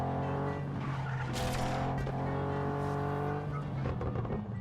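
In-game car braking hard and skidding in Just Cause 3, a loud, sustained tire squeal over a steady engine drone lasting several seconds, with no talking.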